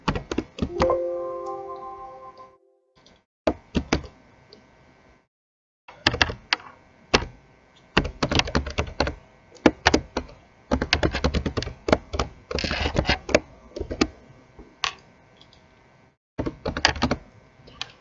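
Fingers type on a computer keyboard while filling in an Excel spreadsheet, in close, crisp bursts of clicking keystrokes separated by short pauses over about eighteen seconds.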